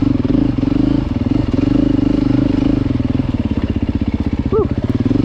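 A 2023 Beta dirt bike engine runs close by as the throttle rolls on and off, so the steady loud rumble swells and eases in waves with a brief lighter patch near the end.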